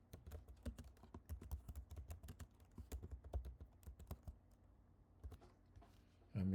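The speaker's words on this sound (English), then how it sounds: "I'm going to type Henry David Thoreau." Typing on a computer keyboard, close and quiet, a steady patter of individual key clicks that thins out near the end.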